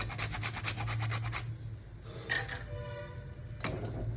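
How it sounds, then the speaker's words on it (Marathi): Rhythmic scraping strokes rasp as nutmeg is grated for a second or so, followed by quieter rubbing and a couple of light clinks. "थोडं जायफळ किसून टाकणार आहे"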